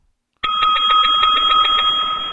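A loud, sustained electronic bell or ringtone with a steady pulsing ring starts abruptly and continues without pause, alone in the clip.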